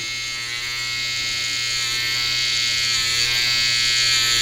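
Cheap Chinese electric hair clippers run close by with a loud, steady, high-pitched motor buzz that holds unbroken throughout.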